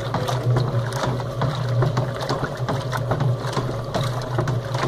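A homemade washing-machine drum churns a blanket with a loud, continuous mechanical rumble and rattle, a steady low motor hum beneath irregular clanks, with no talking.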